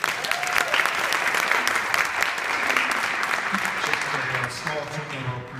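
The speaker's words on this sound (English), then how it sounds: "another big round of applause for Sandy" A round of applause for Sandy after a keynote talk, sustained crowd clapping at moderate volume with faint voices mixed in, tapering slightly near the end.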